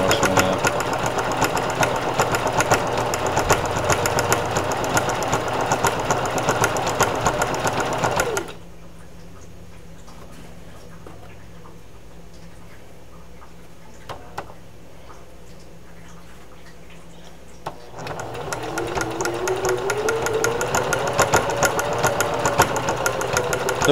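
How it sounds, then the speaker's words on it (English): A Singer Heavy Duty 4452 sewing machine stitches in loud, steady runs with a fast mechanical whir, stops for about ten seconds of near silence, then starts up again and runs on. "The machine I'm using is the Singer Heavy Duty. I think it's a 4452 model."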